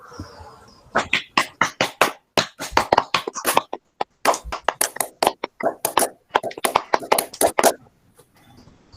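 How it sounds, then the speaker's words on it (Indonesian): A school class doing the Indonesian Scout clap together, with a long run of crisp, loud group claps in a patterned rhythm of quick bursts and short pauses, nearly unbroken for several seconds. "mari kita bersama-sama melakukan tepuk pramuka"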